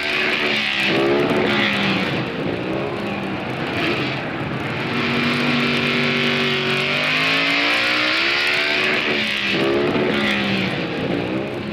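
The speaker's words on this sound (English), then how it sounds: "The kings of the quarter mile are the dragsters, invented for super acceleration." Dragsters at the 1966 or 1968 NHRA Nationals, engines roaring loud and continuous with rising and falling pitch as they accelerate down the quarter mile, under a droning background.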